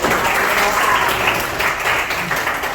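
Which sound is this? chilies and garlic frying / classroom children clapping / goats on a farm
classroom children clapping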